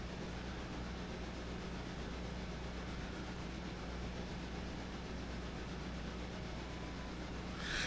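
A locomotive works up a grade in the Railroader train-simulation game, giving a steady, dense rumbling roar of engine and rolling stock that holds even throughout with no speech.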